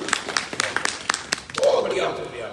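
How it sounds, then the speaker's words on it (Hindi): Audience applause at a family-awareness gathering in Punjab, a brief burst of claps under a speaking voice, then fading as talk continues. "इनके लिए जोरदार ताली लगानी।"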